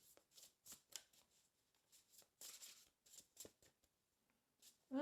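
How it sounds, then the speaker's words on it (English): Oracle cards being shuffled by hand, with soft repeated riffling and slapping bursts in an irregular rhythm, quiet and close, ending in a brief louder sound. "It's not these cards. I'm shuffling far too nicely."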